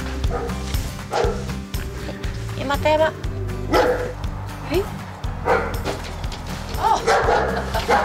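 Puppy barking and yipping in repeated high, short bursts close by, mixed with whimpers, while people talk over and between the barks.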